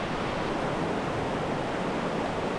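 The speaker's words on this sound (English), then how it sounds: "This has got to be the most beautiful river I've ever seen." A river flowing through a mossy remote wilderness makes a steady, broad rushing hiss, even and unbroken throughout, fairly close with no voices.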